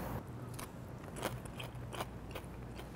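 Crunchy Nashville hot fried chicken is bitten and chewed up close, with a few crisp crackling bursts over steady background noise and no talking.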